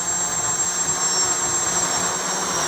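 A quadcopter's electric motors spin up on light throttle, giving a steady high whine with a bright tonal hum held evenly throughout.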